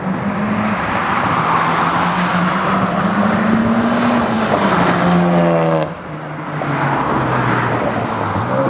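A Honda Civic Type R with a new downpipe, front pipe, charge pipe and intercooler accelerates hard, its engine note climbing steadily and loud from inside the car, dipping briefly at a shift before pulling again.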